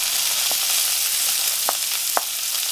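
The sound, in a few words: shrimp seasoning sizzling in cast iron skillet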